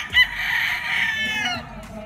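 A Golden Boy Sweater gamefowl rooster on a gamefarm crows once, loud and close. The long, wavering call lasts about a second and a half, with faint background farm noise around it.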